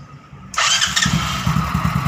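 A Mio Mxi scooter with a faulty starter bendix cranks on its starter motor and fires almost at once, then settles into a close, rhythmic, pulsing idle.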